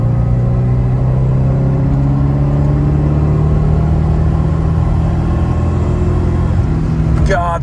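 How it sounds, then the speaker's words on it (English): A 1983 Mercedes-Benz 500SEL engine hums and climbs in pitch as it revs steadily upward, loud and close, with a voice speaking over it near the end. "God, there's so much top end on these engines."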